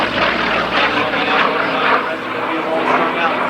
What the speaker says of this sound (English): And there's the Rare Bear with Tsunami right underneath with Skip home.